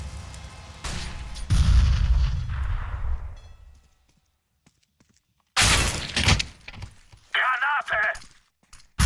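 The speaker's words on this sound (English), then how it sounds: "Throwing a flashbang." In CS:GO during an ELEAGUE Boston 2018 match, a flashbang grenade goes off with loud sharp bursts, then a quiet gap, then more bangs and gunfire, with commentators' voices mixed in.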